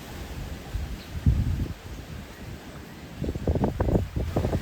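Strong gusts of wind buffet the microphone outdoors, coming in rumbling bursts with quieter gaps between them, and rustling leaves fill in the background.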